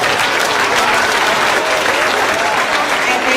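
A school audience at an elementary winter concert gives music teachers loud, dense applause, a steady wash of clapping throughout without a break.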